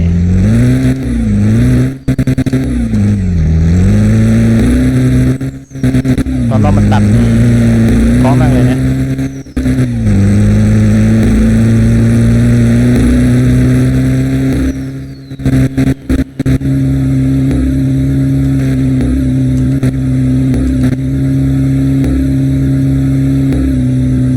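A loud pickup truck engine in Roblox revs hard and climbs in pitch, dropping abruptly several times as gears shift, continuous and close.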